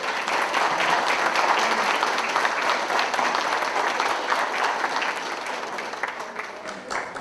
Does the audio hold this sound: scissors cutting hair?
no